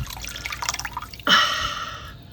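Half a gallon of water poured from a container into a pot of minestrone soup being readied for canning, a sudden loud steady splashing gush that starts partway in and runs to the end after quieter kitchen clatter.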